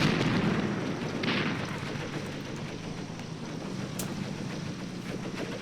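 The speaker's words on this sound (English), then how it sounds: "Look at that, another shot, man, from the AT guns." Anti-tank guns firing in a World War II tactics game on the Mius front, a loud opening blast decaying into a sustained rumbling battle din, with a sharp crack near the end.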